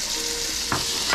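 Chopped green and red peppers fry with onion in a pan, giving a steady sizzling hiss, with a short stir or scrape partway through.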